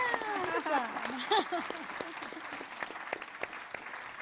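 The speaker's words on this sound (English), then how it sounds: "Another round of applause for Anne Marie, Jill, and Secretary Richards." An audience at a university panel discussion on women moving forward applauds the panelists, moderate clapping running throughout while voices talk over it near the start.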